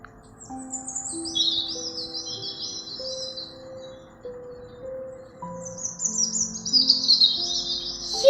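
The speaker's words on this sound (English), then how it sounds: "Here's the story about Bluey the pet bird" A pet bird in an animated story chirps and tweets in short bright bursts, heard at the start and again near the end over a gentle melodic music backing.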